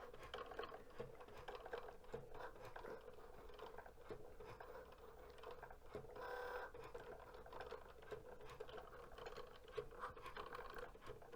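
A Cricut Joy cutting machine works through an infusible ink design with a steady, quiet mechanical whir and a fine patter of ticking movements that runs throughout.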